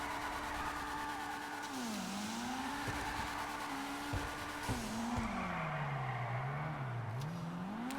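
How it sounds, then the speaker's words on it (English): Car drifting in GTA with continuous loud tire squeal and skidding over a sustained engine drone whose pitch sweeps up and down as the car slides, steady and close throughout. "Hey, I did a drift."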